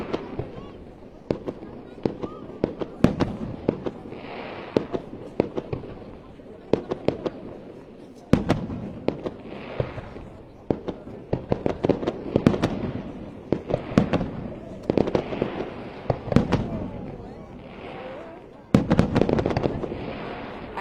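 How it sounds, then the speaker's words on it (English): July 14 fireworks in Saumur in the Loire Valley, a steady run of sharp distant bangs and crackles with varied rhythm and rumbling tails, with people talking now and then beneath. "And here you are in Saumur, enjoying the July 14 fireworks."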